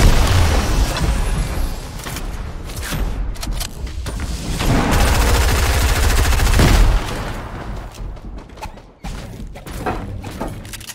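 Heavy gunfire erupts at the player in a solo-versus-squads shooter match, with dense overlapping bursts and booming impacts that roll on loudly for several seconds before breaking into scattered, sharper shots.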